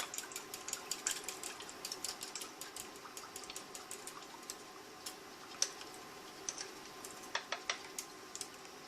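Low carb bun dough is mixed with vinegar by hand, giving rapid light ticking and tapping of a utensil against a bowl in an uneven quick rhythm, faint and close with no voices.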